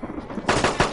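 Gunfire in the video game DayZ, a quiet stretch then a quick series of three loud shots close together.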